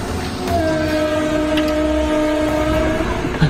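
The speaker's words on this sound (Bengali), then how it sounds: "একটা ট্রেনের আওয়াজ।" A passing train rumbles steadily and loudly, with a long sustained horn blast sounding over the roar.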